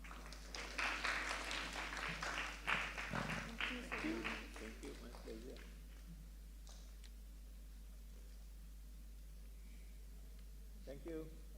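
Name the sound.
audience applause for the rector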